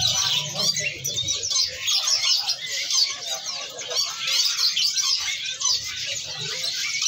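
Busy, overlapping bird chirps and warbling from caged songbirds at a bird market, including bulbuls, fill the clip, a dense chorus singing continuously close by, with faint low murmurs beneath.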